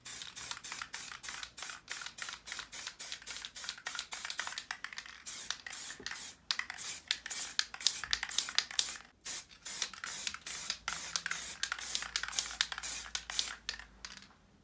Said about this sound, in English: Still a tack coat.